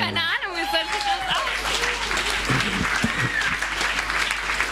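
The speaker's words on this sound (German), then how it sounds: "Applaus bitte" Loud, sustained applause from an audience, with a brief voice and whoops at the start, the clapping continuing steadily throughout.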